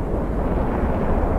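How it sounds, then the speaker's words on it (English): A ship takes a hit and explodes in a naval battle video game where Iranian gun and missile boats swarm a US carrier group. The blast rolls out as a loud, steady low rumble that fills the whole moment, with no voices. "Ship hit."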